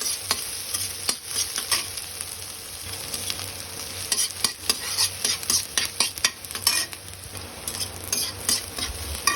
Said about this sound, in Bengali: এখন পেঁয়াজগুলো তেলে নিচ্ছি লাল লাল করে